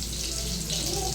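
Brinjal, or eggplant, fries in a pan with a dense, continuous hiss and sizzle, close and steady throughout the short moment.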